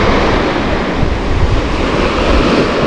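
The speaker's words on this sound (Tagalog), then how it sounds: "Lakas ng hangin." Strong wind roars steadily at a seaside cove, buffeting the microphone with a loud, continuous broadband rush and no voices.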